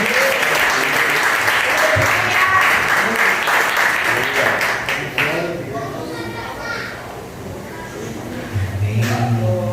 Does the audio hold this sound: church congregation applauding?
yes